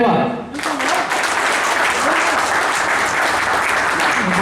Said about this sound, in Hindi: जोरदार तालियां बजाई जाए